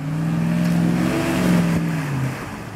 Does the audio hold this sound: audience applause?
no